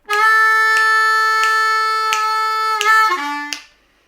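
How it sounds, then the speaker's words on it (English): A blues lick on a G harmonica opens with a scooped 4 draw, then repeats pulsing notes with short articulated breaks and ends on a lower bent note. It is loud, close and solo. "we're starting on a 4 draw and we're scooping it"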